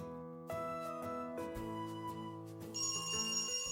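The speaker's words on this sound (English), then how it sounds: "The ringing echoes down the hallway." A telephone rings in a horror video game, with repeated electronic trills echoing down a hallway at moderate volume, then a brighter, higher-pitched ring toward the end.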